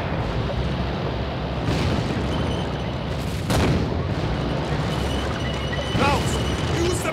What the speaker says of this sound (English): Nothing like a friendly airstrike to soften up the opposition.